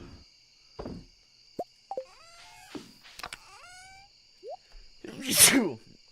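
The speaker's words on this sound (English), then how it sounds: "That was a stinky sneeze." Scattered squeaks, pops and chirpy electronic blips from the game Stardew Valley, then a single loud, breathy sneeze burst near the end.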